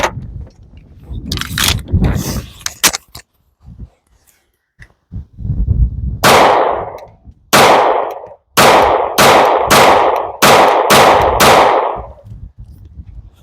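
Loud pistol shots from a 1911 Officer fitted with a grip magazine adapter, about seven sharp reports in a rapid uneven string with handling noise and clicks before them.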